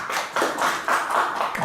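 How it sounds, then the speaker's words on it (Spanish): An audience claps after a talk on scientific instrumentation in medical centres, giving a short, thin burst of hand claps in uneven waves that fades out quickly. "Buenos aplausos."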